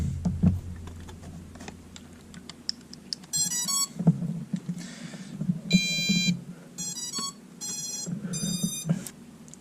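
An MJX Bugs 2 drone and its modified transmitter power up, giving a few loud bursts of electronic alarm beeping, rapid pulsed tones in short groups, over a low background hum.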